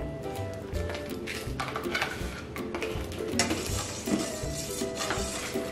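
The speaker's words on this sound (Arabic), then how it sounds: "Now you can stir it with the spoon." A spoon stirring a dough mixture for chicken rolls, producing continuous scraping and knocking against the bowl in an uneven rhythm, close by, with no one speaking.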